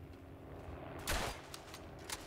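Gunfire in the World War I shooter Verdun: a sharp, moderately loud shot burst stands out above a quiet battlefield background, followed a second later by a fainter shot.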